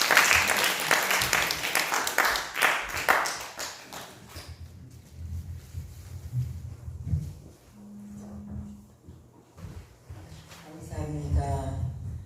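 A church congregation at a prayer gathering claps in a burst of applause for the first few seconds, which fades out as speech and room sounds take over.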